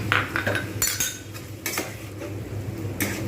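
A spoon stirs beaten sour curd into a pan of spiced masala for a potol paneer dish, giving close metallic scrapes and clinks against the pan in a few sharp bursts over a low steady hum.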